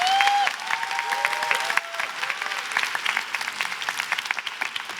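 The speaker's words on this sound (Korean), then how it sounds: "저는 이 박수도 되게 감사하면서도 부끄럽거든요." Audience applause fills a Korean lecture hall during a motivational talk. Steady clapping runs throughout, with brief tonal voice sounds or cheers over it early on.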